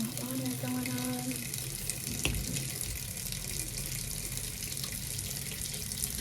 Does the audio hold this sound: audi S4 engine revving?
no